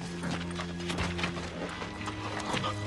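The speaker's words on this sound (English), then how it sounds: "That's Jethro's horse" Horse hooves clip-clop on a Western movie soundtrack, a steady rhythm of close, moderately loud steps layered over low music-like tones, with no voices.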